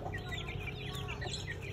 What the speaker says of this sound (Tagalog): Marami ng mga manok. Meron silang pato.